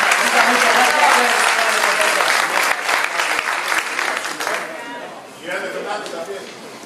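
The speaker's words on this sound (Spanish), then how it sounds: "el aplauso para ellos lo tenemos" Audience applause at a Spanish-language talk or presentation, loud, dense clapping throughout that thins and dips near the end before a brief swell, with some voices mixed in.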